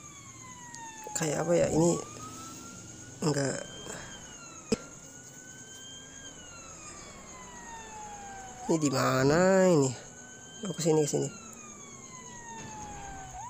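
An emergency vehicle siren in an ambulance simulator video game wails with sweeping, rising and falling tones under steady game noise, while a player talks over it in short bursts.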